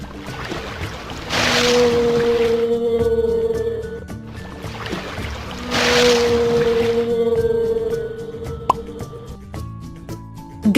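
A whale sends out two long, moaning tonal calls a few seconds apart, sustained and fairly loud over a low watery ocean background.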